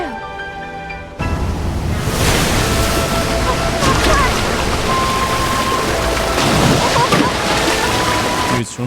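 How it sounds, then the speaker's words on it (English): Rushing water roars loudly and continuously as a character swims up a waterfall in The Legend of Zelda: Breath of the Wild, a dense surf-like wash with a few splashy surges, entering abruptly after a moment of game music. "swimming up a waterfall is pretty dope, though"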